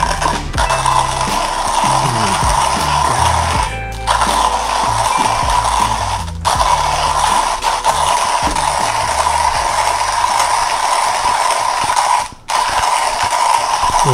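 Comandante C40 MK3 hand coffee grinder grinding 30 grams of coffee beans, a loud, close, continuous ratcheting crunch with brief pauses between turns.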